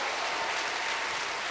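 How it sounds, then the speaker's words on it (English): Applause from the audience at a running camp's closing session: a continuous, moderately quiet patter of many hands clapping with no pauses. "let's give Joaquin Sosa a round of applause for creating that awesome camp video"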